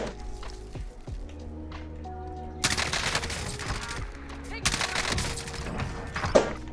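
M4 assault rifle fire in the video game Warzone: rapid automatic bursts rattle out in two sustained strings, cutting through quieter game ambience and a low mechanical drone.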